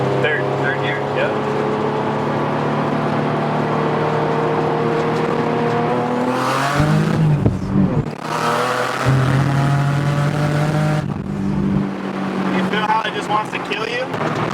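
A turbocharged Nissan 370Z engine roars close and loud, its pitch climbing as the car accelerates hard in third gear on a rural road, with voices in the cabin.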